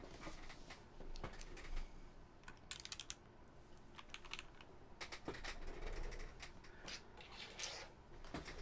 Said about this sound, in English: I'm gonna replace all of these keycaps where they're supposed to be.